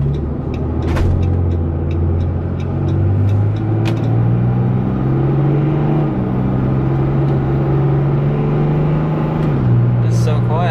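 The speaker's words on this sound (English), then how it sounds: "But this is like the first drive here with the new exhaust. It's pretty quiet in here actually." A pickup truck with a new straight-pipe exhaust running from the downpipe back drives along, its steady low engine drone continuous and fairly loud inside the cab, with brief higher clicks and a slight shift in tone near the end.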